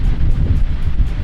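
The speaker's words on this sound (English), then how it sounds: "super windy" Strong wind gusting on a frigid arctic day, a loud, steady rumbling buffet that pummels the microphone throughout with a few brief surges, no voices.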